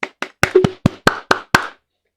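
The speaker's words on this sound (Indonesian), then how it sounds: "Tepuk tangan." Hand clapping: eight sharp, close claps in a quick, slightly uneven sequence, heard alone, then silence.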